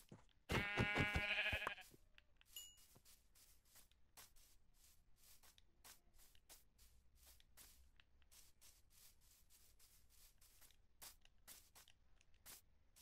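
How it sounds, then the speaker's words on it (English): A single loud sheep bleat rings out near the start, followed by quiet rustling and faint crunching sounds. "Oh, sheep."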